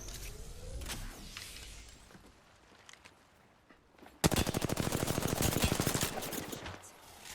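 Rapid automatic gunfire in the video game Apex Legends, a loud sustained burst of evenly spaced shots after quieter in-game ambience and a few scattered sounds.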